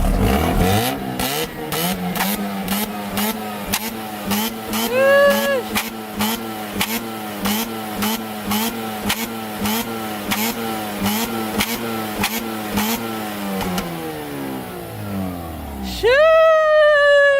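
Revving Mazda RX8 rotary engine fitted with upgraded NPBoosted ignition coils and an HKS exhaust, roaring through steady high revs with rising and falling pitch sweeps, punctuated by rapid popping bursts and a final sharp climb, with people talking in the background.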